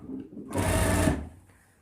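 A sewing machine stitching a ladies suit shirt, running in one steady, fairly close whirring burst of about three quarters of a second, then stopping to quiet.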